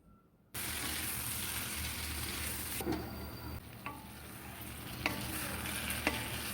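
Sweet pumpkin bhaji frying in a pan, a steady close sizzle that starts suddenly and holds, with occasional faint scrapes and clicks of stirring over it.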